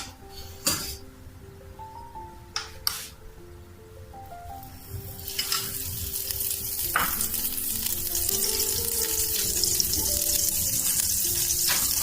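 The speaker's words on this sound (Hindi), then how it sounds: "पैन में मैं 1 चम्मच बटर डालूंगी" Butter melting in a pan for chicken in a white sauce pasta dish: a few utensil clinks and taps at first, then a soft sizzle that builds into a steady, louder frying hiss.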